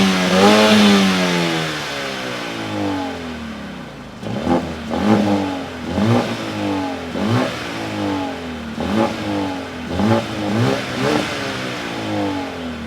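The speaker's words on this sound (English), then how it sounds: "But what I'm interested in is the sound of this car. Does this car sound different to the A45 AMG?" A Mercedes-AMG A35 hot hatch engine first holds a long rising rev, then blips through a run of about seven sharp, rhythmic revs, each rising and falling, close by and loud with no talking.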